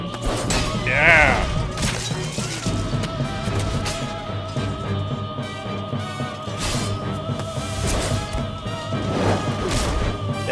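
Melee weapons smash and crash against objects in the 2009 video game Demon's Souls, with repeated heavy thuds, whooshes and clattering impacts over a dense, continuous game soundtrack.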